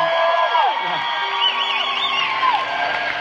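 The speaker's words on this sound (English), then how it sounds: "Yeah, we're gonna applaud" A live concert audience on the American Idol Live tour cheers and whoops, with high shouts rising over a dense, steady crowd roar that fills the room.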